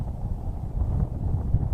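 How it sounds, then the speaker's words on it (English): Wind gusting across an open hillside during an afternoon hike, a steady low rumble buffeting the microphone with no voices. "It was windy as crap out in the open"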